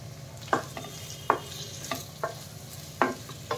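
Roasted ground spice mix being stirred into a pan with salt while cooking potato curry, several separate sharp spoon scrapes and clinks against the pan over a low hum, fairly quiet, no talking.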